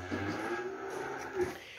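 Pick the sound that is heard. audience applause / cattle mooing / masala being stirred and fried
cattle mooing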